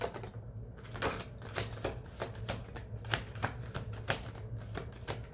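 Tarot cards shuffled in repeated crisp riffling bursts, each a quick papery rattle, close and fairly quiet with a low steady hum beneath and no voices.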